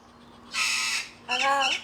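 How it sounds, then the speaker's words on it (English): A galah cockatoo on the coast gives two harsh, loud squawks close by, each lasting about half a second with a brief gap between them. "Gala cockatoo."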